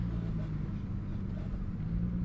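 Audi B5 S4 fitted with an SSAC exhaust, heard as a steady low, throaty drone from inside the car, fairly loud and constant with no distinct revs.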